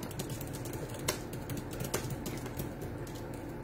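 Continuous rapid typing on a computer keyboard, close and steady, with a few louder key strikes standing out from the dense clatter.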